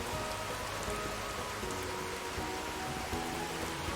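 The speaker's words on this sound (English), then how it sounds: "dear God, I wish it would stop raining" Steady, dense rainfall in Skyrim patters across a surface, a continuous wash of droplets with no voices, holding an even level throughout.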